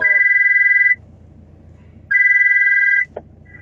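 A telephone rings during a live stream in two loud, steady electronic bursts separated by a pause, followed by a brief click and a short start of a third ring.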